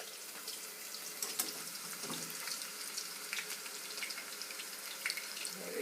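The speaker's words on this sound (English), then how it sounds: "I'm just going to dash them into the oil. Now be careful because it's going to sizzle." Chopped onions frying in hot oil for jollof rice, a steady, fairly quiet crackling sizzle with scattered sharp pops and spits, close by, without any talk.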